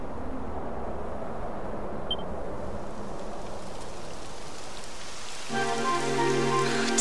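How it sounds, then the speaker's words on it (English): Steady rain hisses across the scene in Dragon Quest XI on PS4, a dense even patter with no voices. Near the end a bright chiming musical tone rises over it. "Typical. It would have to go and start raining, wouldn't it?"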